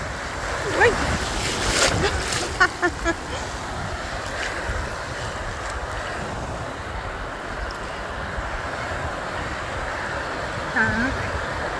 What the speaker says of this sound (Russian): Вон волна такая.